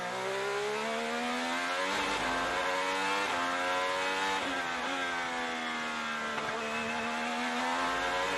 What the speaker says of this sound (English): as we watch Graham Rahal now. That Mobile 1, number 15 this weekend